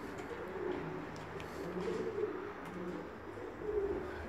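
Bulgarian breed pigeons coo softly in repeated low, throaty phrases close by, against a steady background hum.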